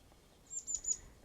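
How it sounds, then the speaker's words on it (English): Little chickadees calling outdoors on a morning, a faint, brief run of three high thin chirps close together. "There's some little chickadees here."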